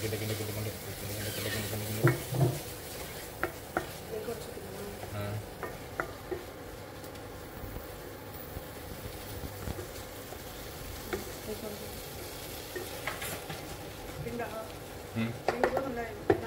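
Vegetables with garam masala are stirred in a pan, making soft scraping and light sizzling. Faint irregular clinks run through it, and someone talks quietly in the background.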